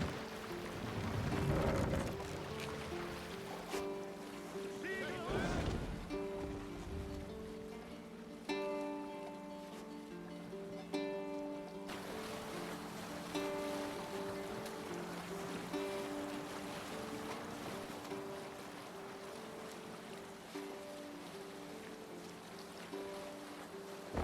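A Viking longship sailing at sea in Assassin's Creed Valhalla: steady rushing water and wind across the hull, with a loud splash of spray early on, under a continuous game music bed.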